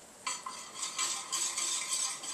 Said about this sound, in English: we use our whisk to get up some of the little bits on the bottom of the pan